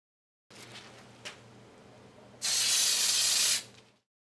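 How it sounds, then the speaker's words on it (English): Gold edible spray hisses onto unicorn horn cookies: two brief puffs, then one steady, loud, close spray lasting about a second before it cuts off. "let them dry for a little bit, and then apply the spray in gold."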